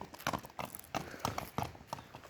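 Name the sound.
horse hooves clip-clopping while walking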